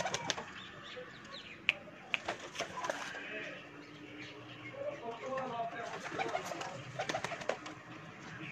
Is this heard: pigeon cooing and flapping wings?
yes